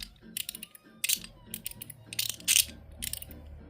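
A YIJOO Design X2 Battle Armor mechanical slider fidget toy clicks and ratchets in quick irregular bursts, sharp close snaps over a faint background, with no voices.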